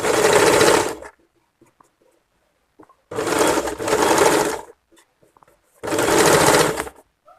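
Sewing machine stitching folded fabric for a kameez neck, heard close and loud in three separate whirring runs of about a second each, with quiet handling clicks in the pauses between them.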